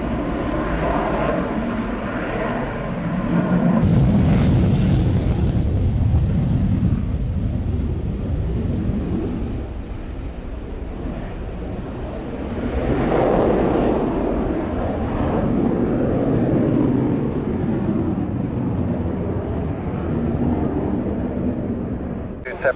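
An airplane on takeoff at an airfield during an evening aviation show, a loud, sustained engine roar that swells around four seconds, eases, then surges again near thirteen seconds, with wind buffeting the microphone.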